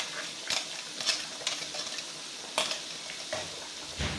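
Steady sizzling as onion, garlic and ginger paste fries in a pan, with a spoon scraping and stirring at intervals, several sharper clinks standing out over the constant fry.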